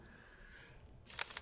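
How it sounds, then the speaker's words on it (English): Loud mechanical shutter of a Fujifilm X-Pro2 mirrorless camera, firing as a quick pair of sharp clicks near the end after a quiet room hum. "which has a notoriously loud shutter"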